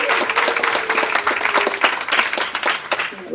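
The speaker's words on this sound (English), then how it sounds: "Big round of applause for Miss Jen" An audience at a virtual keynote gives a big round of applause, with lively crowd clapping, fairly loud and continuous, tapering slightly toward the end.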